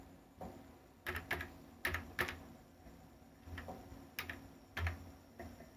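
Typing on a computer keyboard, with quiet bursts of close key clicks in uneven clusters and short pauses between words, with no talking.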